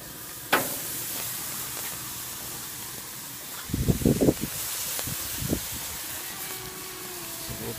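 Steaks sizzle on an outdoor grill in a steady broadband hiss, with a sharp clatter near the start and a louder burst of crackling and handling noise midway, no voices.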